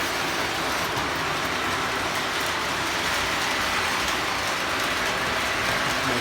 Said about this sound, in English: Train smoking over here.